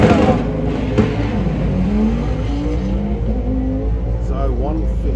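A front-wheel-drive Vauxhall Corsa drag car roars at Santa Pod in a loud, continuous rising engine note with shifting pitch under race commentary.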